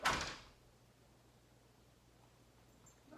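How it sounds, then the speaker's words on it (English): A household door worked by its handle gives a sharp latch clunk and swing at the start, then quiet room tone, and a second faint click near the end as it closes. "Open the door again and close."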